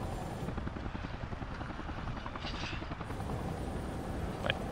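A helicopter in the video game Resident Evil 5 gives off a steady, loud rotor drone and engine whir that holds throughout, with brief higher flutters near the end.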